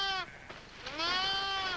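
Sheep and lambs bleat nearby in quick succession, a couple of wavering, nasal cries, the last one long and drawn out, with no talk over them.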